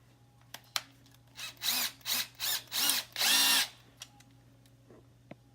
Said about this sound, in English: Now we get back to our bigger bit to open up the hole so the screws can actually fit inside there.